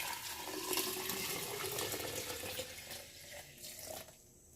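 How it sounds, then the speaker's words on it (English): Homemade walnut milk pours steadily into a tall acrylic pitcher, a soft continuous liquid splash that fills the first few seconds and then thins out into quieter trickles. "I have my little tall acrylic pitcher here. And so what I'm going to do is just pour it in here."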